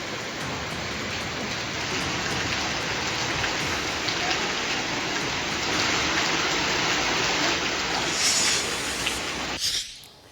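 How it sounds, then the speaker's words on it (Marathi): Heavy afternoon downpour in Nagpur, a dense, steady roar of rain pounding surfaces up close, constant throughout before cutting off at the end. "नागपूरमध्ये दुपारी 2 नंतर पुन्हा एकदा मुसळधार पावसाने जोरदार हजेरी लावली आहे"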